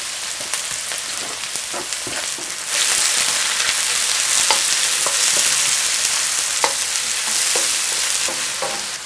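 Seasoning and fries frying in hot oil in a wok, a steady loud sizzle with crackling pops and stirring scrapes throughout, growing fuller partway through.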